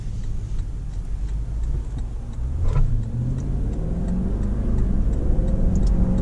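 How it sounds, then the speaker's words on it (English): Lexus LX570 with a V8 engine while driving, a low steady engine rumble under road noise that rises in pitch midway as the engine revs up, then holds a firm hum. "Listen to that V8."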